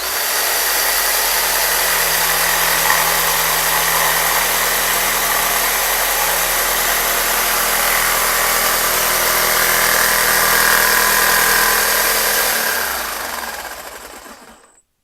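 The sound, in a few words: jigsaw cutting wood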